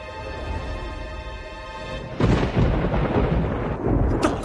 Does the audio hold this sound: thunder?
yes